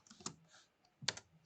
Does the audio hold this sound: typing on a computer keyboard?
yes